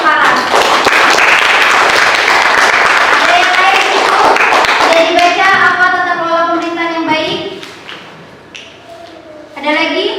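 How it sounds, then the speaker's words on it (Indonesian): Classroom applause for a student, a burst of dense clapping from a group at close range that fades as voices and chatter take over, with a teacher speaking near the end. "tepuk tangan dulu untuk Farah"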